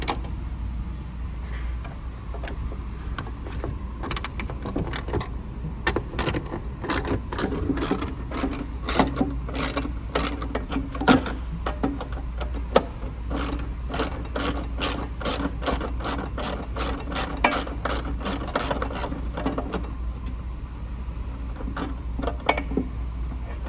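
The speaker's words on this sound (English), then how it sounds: "I'm going to loosen off these two bolts here that are holding on the electrical cover panel" An 11/32 ratchet wrench loosens the bolts holding an electrical cover panel on a TRAX X2, giving rapid bursts of close, sharp clicking that repeat in uneven runs over a low steady hum.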